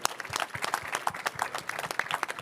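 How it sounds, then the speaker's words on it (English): Audience applause at a circular economy pitch session, a dense, steady patter of many hands clapping at moderate distance for a couple of seconds. "Please put your hands together for a round of applause."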